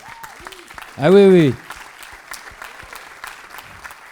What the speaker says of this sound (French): Je pense qu'on peut applaudir la ville de Bourges.